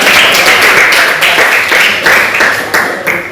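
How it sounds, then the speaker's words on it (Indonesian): A class claps loudly for a student group after a teaching-practice presentation, the close, crisp claps falling into a rhythmic beat that repeats about every half second. "Berikan tepuk tangan untuk kelompok 3 ya"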